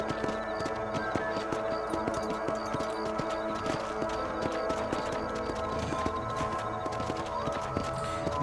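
Horse hooves clip-clop in a steady walking rhythm in the video game Red Dead Redemption, with a moderate level and busy game ambience underneath.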